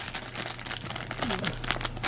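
A plastic bag crinkles and crumples steadily up close while deep-pour clear resin and activator are poured into it to make a river on a model layout.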